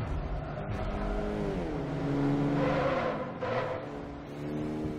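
Electric car in Forza Motorsport 4 driving alone without talk, a smooth whirring motor tone rising and falling in pitch as it speeds up and eases off, steady and fairly loud throughout.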